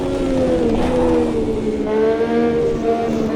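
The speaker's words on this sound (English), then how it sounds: "This car just sounds awesome, and it handles really well too." A high-revving Formula 1 race car engine in a racing simulator game whines steadily, pitch rising and shifting between gears, loud and continuous without any voices.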